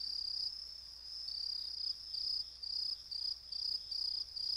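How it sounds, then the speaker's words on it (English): In a children's train cartoon, grasshoppers chirp at night in a steady, high, pulsing trill that rises and falls in regular waves against a quiet background. "It's grasshoppers. You can hear them on a quiet night."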